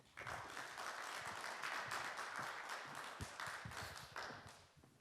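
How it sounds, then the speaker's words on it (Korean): Audience applause at an admissions strategy briefing held by a boarding academy, a steady soft patter of many hands clapping for about five seconds, faint and distant, fading out at the end. "박수 부탁드리겠습니다"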